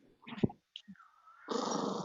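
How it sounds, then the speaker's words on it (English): A small dog growls in short grumbling bursts close by, followed by a sustained rough rumbling growl, in an otherwise quiet indoor room. "Our little dog is being grumpy because our big dog just walked over and it's too close."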